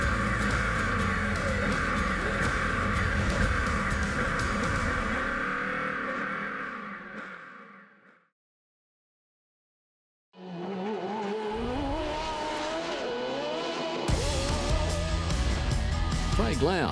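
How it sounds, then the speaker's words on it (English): Star race cars driving in a police-escorted convoy through Adelaide city streets at a motorsport festival, with loud engine roar and passing cars, a brief dropout of silence midway, then more revving and passing traffic with crowd noise. "Star cars and drivers form up for a police-escorted blast through city streets"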